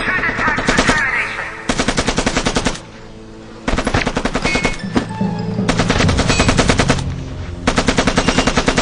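Gunfire in the Evil Genius game: loud, close bursts of rapid automatic fire in several long volleys separated by brief pauses, dense and continuous with overlapping shots.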